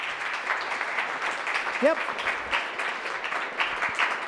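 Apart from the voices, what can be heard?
audience applause for the mascot Petey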